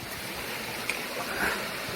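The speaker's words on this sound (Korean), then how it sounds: "여기 중간에 올라오니까 폭포천지네요" Mountain valley waterfalls and a stream in the Yeongnam Alps, a steady broadband rush of flowing water filling the whole stretch at an even level, with no talk.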